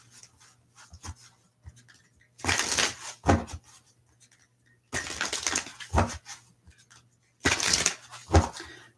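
Three bursts of crisp card shuffling, each lasting about a second, separated by quieter handling and soft taps, close and fairly loud with a steady low hum underneath.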